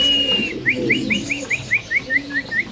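A yellow Lahori pigeon at a pigeon farm calls close by, a regular series of about ten short, rising, whistle-like notes over a soft, low cooing hum.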